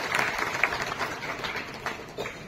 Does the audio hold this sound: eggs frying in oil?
no